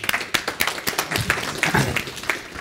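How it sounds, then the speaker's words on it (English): Scattered clapping from a small audience after a stage presentation, sparse individual claps at an irregular rhythm rather than a dense roar, close and moderately loud. "Give him a big round of applause"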